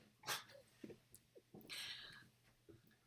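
A puppy whimpers and yips in short, faint bursts with soft breathy sounds between them, heard indoors and fairly quiet.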